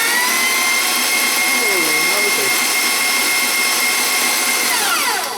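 An electric mixer whips brownie batter made from scratch: a loud, steady motor whine running throughout, with the pitch wavering slightly as the beaters move through the bowl.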